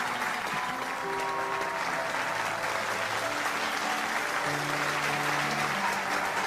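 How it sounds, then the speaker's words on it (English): A large rally audience applauds Dr. Hak Ja-han Moon with sustained, even clapping that fills the room. Faint tonal music plays underneath, and there is no speech over the applause. "Let us give Dr. Hak Ja-han Moon another big round of applause,"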